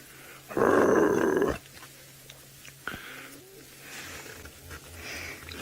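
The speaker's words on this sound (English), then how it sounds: "You can still hear him growling." A wild animal on an African game drive gives one loud, deep, rough growl at close range, followed by quieter rumbling and faint background sounds.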